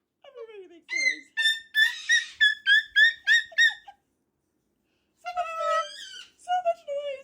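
A pet cockatoo squawks and chatters in a run of sharp, rhythmic calls, pauses, then lets out another burst of bright, harsh cries close to the microphone.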